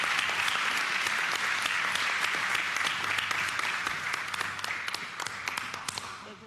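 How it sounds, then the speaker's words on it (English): Sustained applause from an audience at a regular board of education meeting, dense and even clapping that holds steady before gradually thinning and fading toward the end. "May we give them another round of applause."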